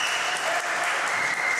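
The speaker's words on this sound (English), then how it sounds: "And the crowd just erupts with that one." A crowd at a tournament semi-final in Montreal bursting into loud, sustained applause and cheering after a shot, dense clapping throughout.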